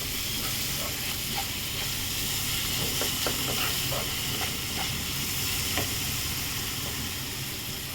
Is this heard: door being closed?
no